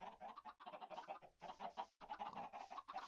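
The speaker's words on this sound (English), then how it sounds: "Underneath this chicken head statue, you may have guessed by the noise, is my chicken farm." Many chickens cluck continuously on a Minecraft chicken farm, a dense, close chorus of overlapping clucks and squawks with only brief breaks.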